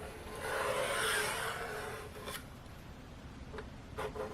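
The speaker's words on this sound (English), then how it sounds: "use a scribe, and just scribe around the outer periphery of this" Metal scribe scratching around the outline of a dash gauge panel, a soft rasping scrape that swells and fades, followed by a few brief light scratches, close and quiet with no speech.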